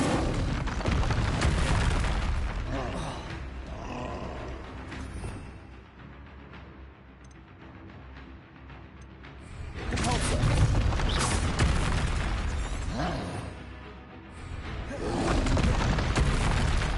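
Confringo fire spell blasts in the Hogwarts Legacy game, heavy booming explosions that rumble and swell twice with a quieter stretch between, no talking.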